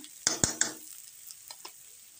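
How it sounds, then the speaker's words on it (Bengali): Cabbage and potatoes stir-fried in a pan, three quick clicks of a spatula against the pan followed by a faint, quiet sizzle and a couple of softer taps. "এটাকে খুব ভালো করে কষে নিতে হবে।"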